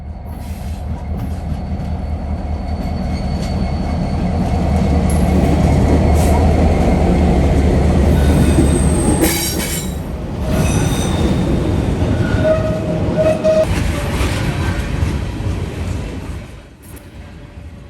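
A Union Pacific freight train of 23 cars led by an AC-44CW locomotive rolls past nearby, a loud steady rumble of wheels and cars with squealing wheel tones, fading at the end.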